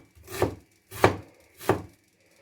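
Onions are chopped into large pieces on a board, with three firm, evenly spaced knife strokes landing close and clear. No one talks.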